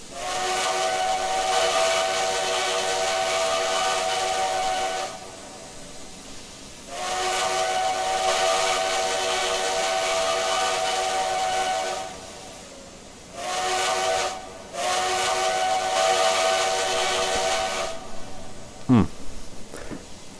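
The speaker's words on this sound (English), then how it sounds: "According to the lore, the whistle is a South American 5-chime." A South American 5-chime steam whistle on a K&L Eagle River #62 locomotive in Trainz Simulator blows a long, loud, steady chord three times with brief gaps, then a short fourth blast, over a faint rumble of the train.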